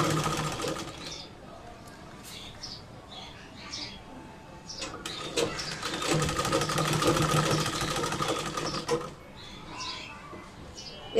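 A sewing machine stitches a kameez neck strip in rapid mechanical bursts, starting and stopping with steady clattering runs, heard close up in a quiet room.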